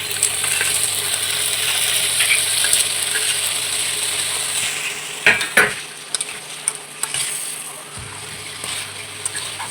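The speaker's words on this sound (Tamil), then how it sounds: "இப்போ நண்டுலாம் போட்டுக்கலாம். நண்டையும் போட்டு அது கூடவே வதக்கிடலாம்." Crab pieces sizzle and fry in a pan with softened tomatoes, a steady sizzle broken by a few clinks and stirring scrapes as they are sautéed.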